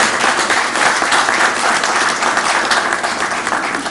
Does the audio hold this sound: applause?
yes